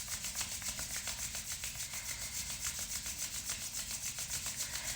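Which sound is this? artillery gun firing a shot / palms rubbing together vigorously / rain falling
palms rubbing together vigorously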